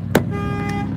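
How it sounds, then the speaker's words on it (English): A car alarm sounds close by, its steady electronic tone holding throughout a single second, with a brief louder burst near the start. "car alarm's going off next to me"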